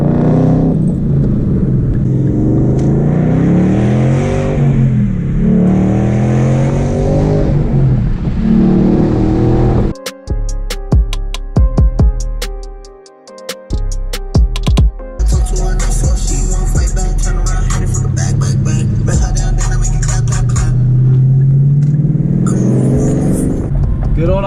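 A Ford Mustang 5.0 Coyote V8 with a DIY muffler delete roars loud and close, revving up and down, briefly cut by a break in the middle before the harsh exhaust note returns.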